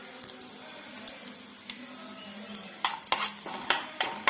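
Chopped shallots and curry leaves dropped into a pan with mustard seeds and chilli, under a faint steady hiss, followed by a cluster of close, clattering spoon strokes against the pan.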